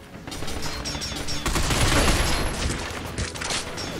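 Sustained machine gun fire in the third-person shooter Binary Domain, a dense rattling fusillade with overlapping gunshots and mechanical clatter, loud and continuous throughout.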